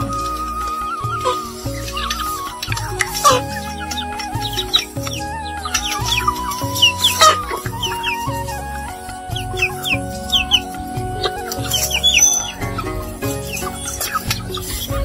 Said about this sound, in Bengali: আমার 13টা দেশি মুরগি